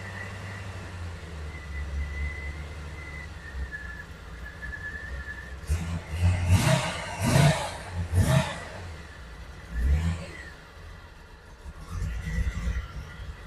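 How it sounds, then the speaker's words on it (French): A Corvette engine revs in four or five strong bursts over a low steady idle, apparently running rough as if firing on only six or seven cylinders, with faint whistling tones earlier. "Là, je regarde comment réagit le moteur."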